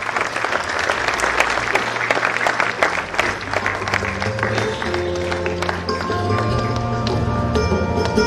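Audience at an annual prize distribution ceremony at a Wai academy applauds a teacher, with steady dense clapping throughout and a few ringing tones rising near the end.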